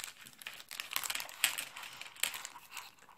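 Someone opens a mail package, crinkling and rustling the paper and plastic wrapping in quick, close, irregular bursts with a few sharper tearing crackles. No one speaks.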